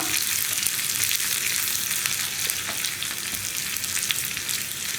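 Onions frying in a pan while being stirred for puli inji, a dense, continuous close sizzle with scraping stir noises mixed in throughout.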